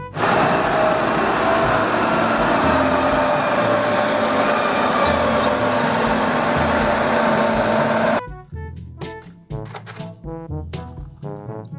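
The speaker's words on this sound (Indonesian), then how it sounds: "Mobil truk molen." A toy concrete mixer truck runs with a loud, steady whirring drone for about eight seconds, then cuts off abruptly and gives way to a few scattered clicks and knocks.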